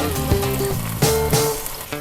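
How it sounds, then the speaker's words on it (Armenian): Walnuts fry in oil in a pan with a crackling sizzle, heard under a loud, tonal musical background that has repeated accents. "նույն յուղի մեջ տապակում ենք ընկույզը"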